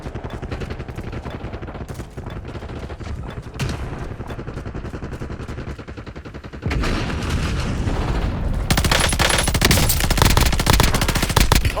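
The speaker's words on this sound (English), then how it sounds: "Missile strike in T-minus 10 seconds." Missile strike in Call of Duty: Warzone, with continuous machine-gun fire and booms that swell into a louder, denser barrage of explosions in the second half.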